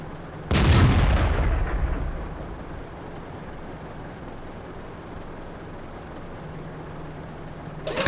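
A single loud tank cannon blast in the World of Tanks video game hits a KV tank, booming sharply and then decaying into a long rumbling tail.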